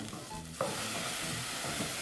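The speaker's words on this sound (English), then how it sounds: "now just add our tomatoes that I've blended" Blended tomatoes poured into a hot pan for a vegan potato and pea curry hiss into a soft, even sizzle with a brief splash of stirring, close but quiet.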